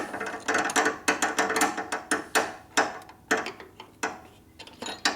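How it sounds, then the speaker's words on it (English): A homemade wrench clicks and ratchets as it turns bolts on a Harley panhead engine, with close, irregular metallic ticks and clanks repeating for several seconds without talk. "Now I made this wrench so I go right through here, so you have to rotate it."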